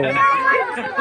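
Crowd of villagers chattering at an outdoor Bhojpuri film shoot in Pantoka village near Raxaul, a dense, steady murmur of many overlapping voices close by with no single voice standing out.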